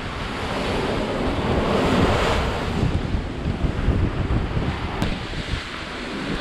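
Strong wind roaring over crashing, rushing waves at sea aboard a sailing yacht, a dense continuous wash of noise with no voices.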